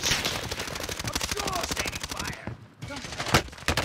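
Rapid automatic gunfire in a shooter video game, a dense burst of close shots that breaks off briefly and then resumes, with players talking faintly underneath.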